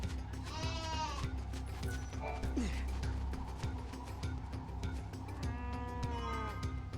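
A large sheep bleats in Final Fantasy XIII-2, two drawn-out wavering calls near the start and end, over a steady low game soundscape and rumble.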